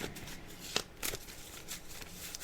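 A deck of cards is shuffled by hand for a card reading: a steady, close riffling and flicking with a few crisper snaps.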